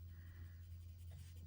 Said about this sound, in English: I'm just going to go in with a colored pencil